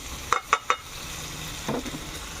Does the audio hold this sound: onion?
yes